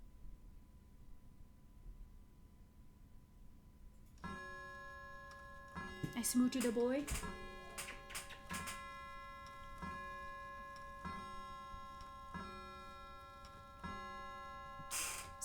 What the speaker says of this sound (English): the grandfather clock continues its booming toll